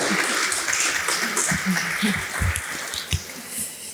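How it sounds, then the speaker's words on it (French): An audience applauding the panelists at a round-table discussion, a moderate patter of clapping hands from a hall with a few louder claps and light murmurs, rather faint and diffuse. "On peut applaudir peut-être les intervenants"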